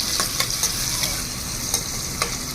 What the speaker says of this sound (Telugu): ఇదిగండి ఉల్లిపాయలు వేగుతున్నాయి కదా